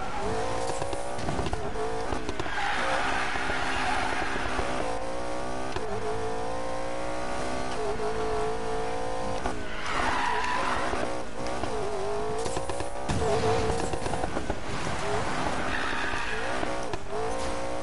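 A car drifting in a racing game, engine revving and whining with long tire squeals swelling in repeated bursts, loud and close, sustained across the whole run.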